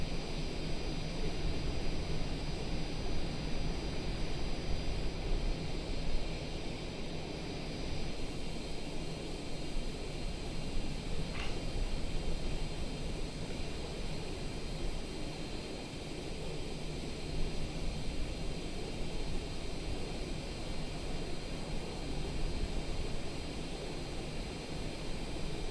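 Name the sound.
Cessna aircraft engine in a flight simulator video game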